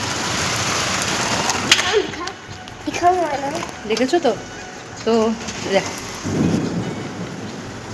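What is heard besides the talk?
heavy rain with thunderstorm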